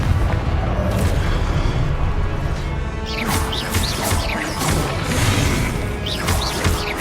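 Fiery Confringo spell blasts in the Hogwarts Legacy video game, a dense run of booming crashes and whooshing bursts over a constant loud rumble, with several sharp impacts packed into the second half.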